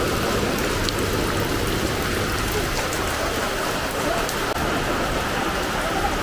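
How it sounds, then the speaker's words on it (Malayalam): Rain falls steadily, pattering on surfaces with an even, dense wash of drops that holds at a constant moderate loudness throughout. "ഇറങ്ങണ്ടി, മഴ പോകാൻ നോക്കാം."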